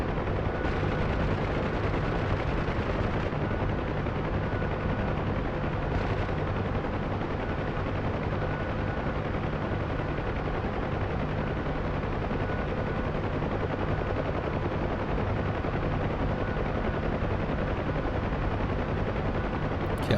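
Door gunner's machine gun firing steadily from a UH-1 Huey in DCS, loud continuous rattle over a constant rotor and engine drone throughout, no pauses.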